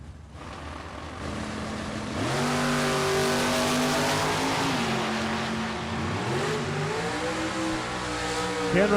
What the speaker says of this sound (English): The Buick Roadmaster for Jake Canale and Ken Atherton in the 41 Willys